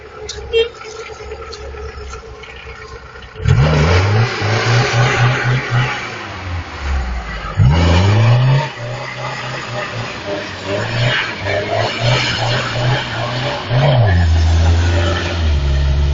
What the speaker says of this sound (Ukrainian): Мотор рве.